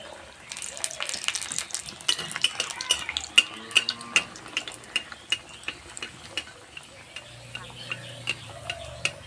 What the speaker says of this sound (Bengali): হালকা আঁচে একটু সময় ধরে ভেজে নেব